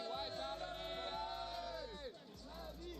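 A crowd of Vitality fans at the CS2 Grand Finals of the StarLadder Budapest Major cheers and yells in a dense, sustained roar that fills an arena. The noise dips briefly and then swells again.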